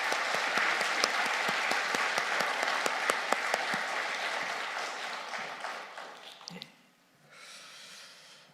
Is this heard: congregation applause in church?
yes